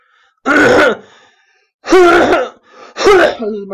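A person clears their throat and coughs up phlegm in three harsh, raspy bursts with short silences between, close and loud.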